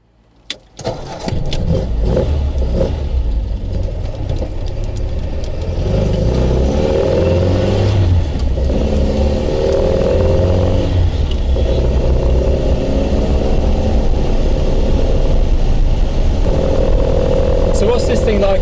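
A classic MGB GT cranks and fires, then settles into a loud, steady running engine note with a firm low throb that holds, close up, until the end.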